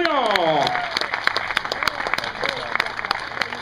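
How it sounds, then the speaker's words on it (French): An awards-ceremony crowd applauds a podium of prize winners, scattered clapping rising after a loud announcer's voice fades at the start, continuing with sharp individual claps. "on applaudit bien entendu donc ce podium"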